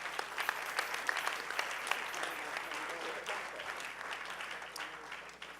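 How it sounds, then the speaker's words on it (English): Sustained applause from a panel audience, steady dense clapping that holds through the whole stretch and eases slightly toward the end, with faint voices underneath. "Another round of applause for our panelists."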